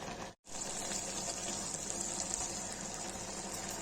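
Water poured into a cooking pan holding mushrooms and beans, a steady close gushing splash after a brief silent gap at the start, continuing evenly to the end.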